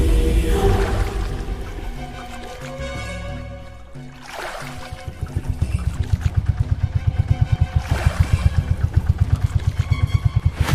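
A boat engine chugs steadily as the boat turns on a river in the Sundarbans, its rhythmic thumping growing louder and more pronounced partway through, with no talking.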